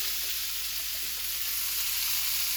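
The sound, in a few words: vegetables frying in butter in pan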